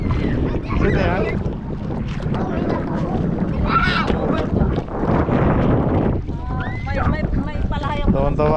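Strong wind buffets a boat out on open water, a loud continuous rush against the microphone while people talk and children laugh nearby.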